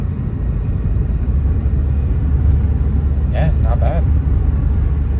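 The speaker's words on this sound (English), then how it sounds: "I'm gonna go test drive it now and see if everything's all good to go." Steady road rumble and engine drone inside a rental car out on a test drive, loud and continuous, with a brief voice heard over it.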